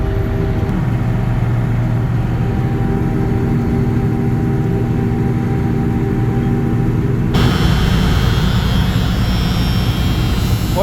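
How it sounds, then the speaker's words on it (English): A John Deere 6620 Titan II combine shells corn, producing a loud, continuous, close engine and machinery drone with steady hum and rumble that shifts slightly in tone partway through and never drops away. "So we pretty well keep the combine rolling the whole time"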